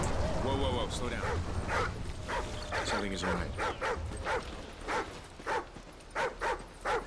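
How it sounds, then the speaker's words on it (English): A dog whimpers, yips and barks in Call of Duty Ghosts, with a run of short rhythmic barks growing clearer toward the end under game noise while someone talks over it. "What's this dog up to?"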